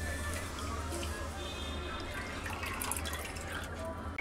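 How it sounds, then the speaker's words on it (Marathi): Water running and dripping as shepu (dill) greens are rinsed at home, a steady close splashing wash over about four seconds. "आता ह्याच्यामध्ये पाणी काढायचं आणि टाकायचं"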